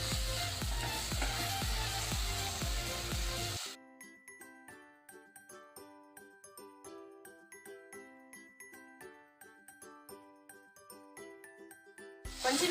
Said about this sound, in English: Add your onions and then zikoroge. Zikoroge until they become brown.